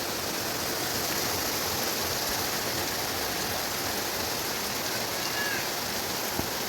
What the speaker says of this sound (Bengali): সকাল সকাল দেখো বাইরে কী পরিমাণ না বৃষ্টিটা হচ্ছে।